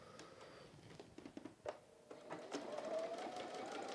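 A sewing machine stitches rectangles of quilt fabric for a swirly squares quilt, a faint, steady mechanical whirring with light tapping that runs continuously close by.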